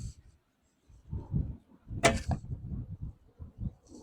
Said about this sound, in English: My arrow flies